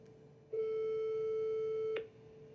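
A single long, steady telephone tone sounds for about a second and a half as a phone call is placed, a clean electronic beep standing out against quiet background hum.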